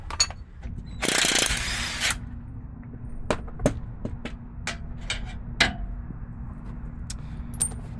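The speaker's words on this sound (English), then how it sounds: "mark it and unbolt those and drop it" Car axle bolts being undone with hand tools give sharp metallic clicks and ticks at irregular intervals, with a short loud burst of rattling or ratcheting near the start, close by and without talk.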